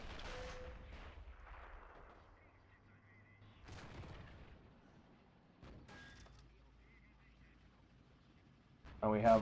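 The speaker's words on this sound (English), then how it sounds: "And we have another smoke barrage coming down." Distant artillery fire from a smoke barrage in a war video game, a few faint booms spread out under quiet commentary.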